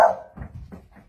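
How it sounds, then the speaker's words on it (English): A puppy at Takis Shelter gives one short, sharp bark close by, followed by softer snuffling and movement sounds. "What a cute puppy is this?"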